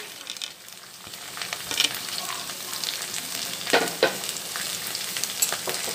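Capsicum and onion fry in a hot pan for Indian-style masala pasta, a steady close sizzle with scattered louder crackles and stirring scrapes throughout.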